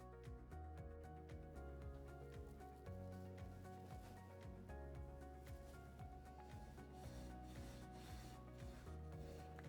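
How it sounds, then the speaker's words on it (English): Paint being wiped across a wooden surface for a wash finish, a soft continuous rubbing and brushing texture in repeated strokes, close and fairly quiet with no talk. "I'm just going to wipe my paint color on the wood."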